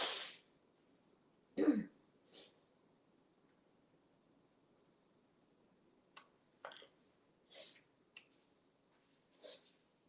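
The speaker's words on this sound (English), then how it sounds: "I will step out of the camera so I can blow my nose." A person blows their nose off to the side in a quiet home kitchen, producing several short, faint, breathy honking bursts separated by silence.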